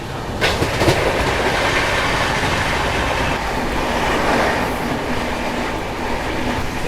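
A passenger train runs on the Visakhapatnam to Araku track near Kottavalasa junction, heard from on board as a loud continuous rumble with rhythmic wheel clatter and a faint squeal.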